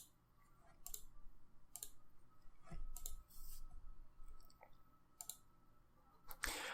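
Sharp mouse clicks on a computer while testing play mode in the Unity game editor, several separate clicks spaced irregularly over a few seconds, close and crisp against a quiet room.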